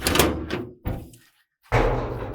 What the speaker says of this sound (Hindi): ये दरवाजा हिलाई, ये दरवाजा हिलाई